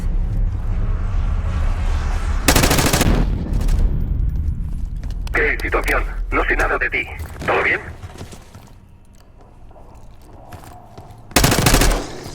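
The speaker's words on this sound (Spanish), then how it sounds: "¿Oyes los disparos?" Rapid automatic gunfire and explosive bursts from a Call of Duty Black Ops 6 campaign mission, loud in short volleys with a final burst near the end, heard alongside in-game dialogue.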